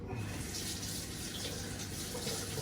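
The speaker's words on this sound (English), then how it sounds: "Quick rinse under the tap" Running tap water pours steadily as a vegetable is rinsed under it for a stew, a close, continuous splashing rush at a constant level, with no speech.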